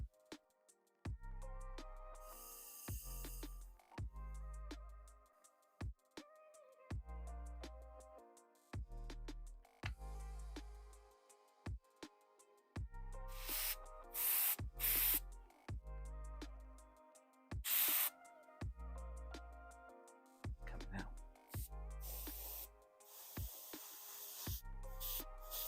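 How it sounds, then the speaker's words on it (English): Varnish sprayed at higher pressure from an airbrush onto a 3D-printed Mr. Sinister figure, in repeated hissing bursts of varying length separated by brief pauses and clicks, close and alone without talk. "I am spraying varnish, so we're gonna let it ride."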